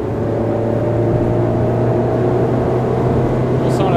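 Ferrari sports car cruising on small country back roads near Lyon, a steady engine drone and road roar filling the cabin with no sharp revving, while someone talks over it.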